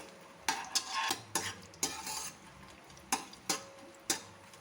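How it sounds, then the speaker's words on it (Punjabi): Whole spices lightly dry-roasted in a pan over a low gas flame, heard as a series of separate scraping stirs and clinks of a spoon against the pan, each one brief and fairly close, with a faint steady hum behind. "ਗੈਸ ਦੀ ਫਲੇਮ ਬਿਲਕੁਲ ਸਲੋ ਰੱਖਾਂਗੇ ਹਲਕਾ ਜਿਹਾ ਇਹਨਾਂ ਨੂੰ ਸੇਕ ਲਾਂਗੇ"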